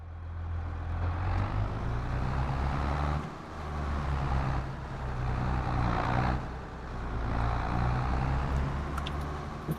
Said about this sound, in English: Pretty good log haul, this little old truck.